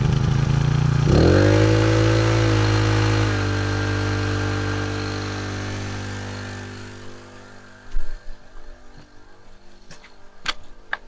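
A small engine driving the water pump of a double-level gold prospecting highbanker revs up to a loud, steady drone, then fades away while splashing and clattering take over.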